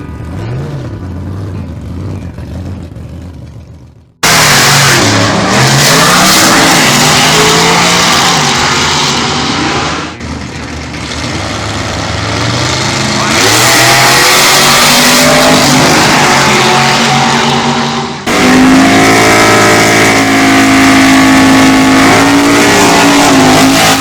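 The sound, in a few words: drag racing cars launching at Island Dragway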